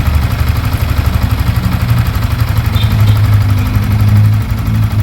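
A Sniper 155 motorcycle engine runs at a steady idle close by, its low pulsing rumble continuous and even, rising slightly in strength midway before settling again.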